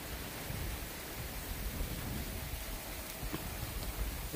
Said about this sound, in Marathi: पाऊस होते यायला चालू झाला आहे बघा